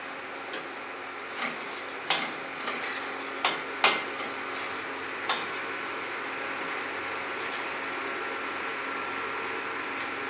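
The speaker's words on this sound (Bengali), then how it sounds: "এবারে আমি এটা একটু নাড়িয়ে চাড়িয়ে নিচ্ছি" Bottle gourd cooking in a generous amount of ghee and oil is stirred in a pan, giving a steady low sizzle with a few sharp scraping ticks of the spoon against the pan, close by and without talk.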